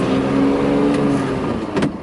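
A 1969 Mercedes-Benz 280SE W108 with a 4-speed manual cruises on a test drive, its engine holding a steady low hum and road roar from inside the cabin, with a faint whoosh near the end and no talking.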